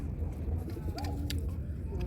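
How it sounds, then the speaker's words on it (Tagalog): Soft, low pigeon coos sound a few times around the middle, half buried in steady outdoor noise and a faint murmur of voices. "Ang dami kalapati."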